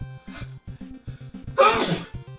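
A single loud sneeze bursts out near the mic, surrounded by a faint repeating tonal hum and clicks before and after.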